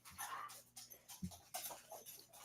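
Dogs whimper and yip softly, several short whines and pants in uneven bursts, faint and close indoors with no talk.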